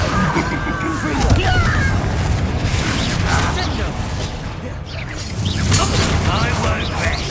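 A Confringo blasting spell goes off during a busy spell-casting fight in Hogwarts Legacy, with crashing, whacking impacts and mechanical clatter over a dense, steady bed of combat noise and voices.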